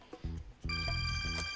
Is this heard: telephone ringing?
yes